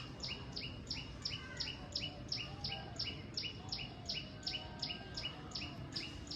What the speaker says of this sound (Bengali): এই পাখিদের সাধারণত খুঁজে পাওয়া যায় না, এত ছোট হয়।